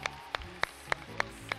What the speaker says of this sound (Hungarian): Attilának egy hatalmas nagy tapsot.